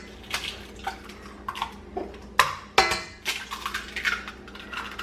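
Eggs cracked against a mixer bowl while making pumpkin cream-cheese muffins, with a few sharp close taps and cracks among soft clinks and wet kitchen sounds.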